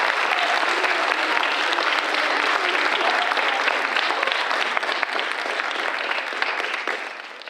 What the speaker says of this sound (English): A round of applause for our faculty.